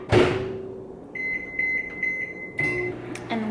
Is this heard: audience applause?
no